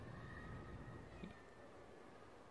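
Faint stray cat meowing in the distance, thin drawn-out cries over low background noise, with no one talking.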